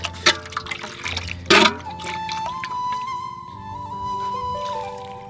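Lime is thrown into reddish pond water on a farm, landing in a few sharp splashes and slaps, followed by a quieter stretch of trickling water and a faint tonal hum.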